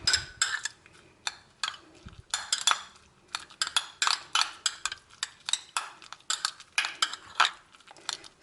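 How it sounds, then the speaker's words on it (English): Spoon clinks and scrapes against a bowl while mixing a coconut almond milk face mask, a quick irregular run of close, bright ticks and taps with pauses between strokes. "So you mix them together."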